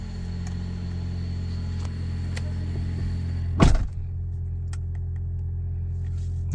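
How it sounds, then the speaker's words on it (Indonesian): A hybrid car's engine idles to charge its battery, giving a steady low rumbling hum interrupted once by a brief louder thump, then settling back to an even drone. "Nih nyala nih, mesinnya ngecas baterai"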